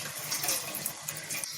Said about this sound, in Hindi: ये देखिए दूध फटे हुए दूध का पानी जो है वो हमने पूरा उसका निथार लिया